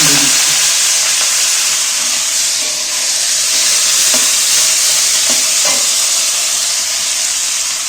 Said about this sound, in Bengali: মৌরিটা ভাজা হয়ে গেছে এইবার আমি কাটা শাকগুলো তেলের মধ্যে